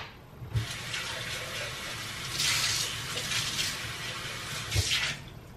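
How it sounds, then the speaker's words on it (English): Tap water runs into a NutriBullet cup as it is rinsed, a steady close hiss broken by a few louder splashes and sloshes as the cup is moved around under the stream. "Let me just rinse this out."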